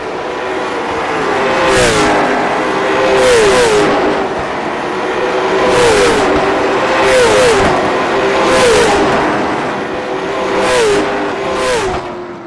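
Race cars lapping an oval at USA International Speedway in a racing sim, engines droning loud and close with repeated rising and falling passes every second or two, no talk.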